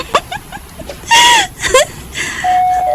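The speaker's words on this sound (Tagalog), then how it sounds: "Kisa marong nag-doorbell?" A doorbell chimes in a couple of bright, ringing tones, loud and close, with a few faint sounds between and after.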